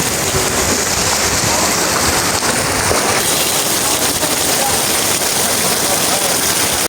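Heavy all-day rain pours steadily in Dhaka amid flood-like conditions, a dense continuous hiss of water drumming on surfaces from start to finish.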